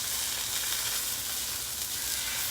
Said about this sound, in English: what I want to do with this is just sear all 4 sides